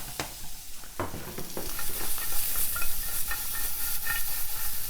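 Vegetables fry in a hot pan just used to sear pork tenderloin, a steady close sizzle with a few sharp stirring scrapes early on, building slightly louder and continuous toward the end.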